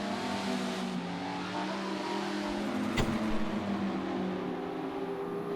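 Race car engine in a prototype racing game at Dubai, a steady droning whine held throughout with a brief sharper burst near the middle, fairly loud and continuous with no talk.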